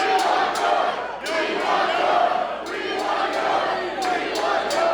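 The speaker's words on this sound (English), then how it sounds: "Listen to this crowd." A wrestling crowd at a Jay Lethal match roars and cheers steadily throughout, dense and loud, with sharp shouts rising above the din.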